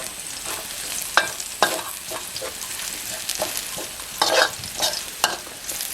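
Minced pork stir-fried with chilli and garlic in a hot pan, a spatula scraping and tossing in repeated sharp strokes over a constant bright sizzle.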